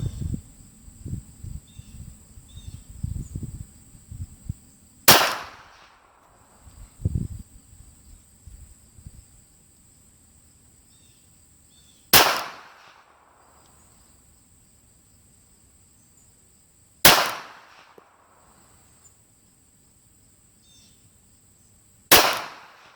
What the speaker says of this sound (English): let's go ahead and shoot these next ones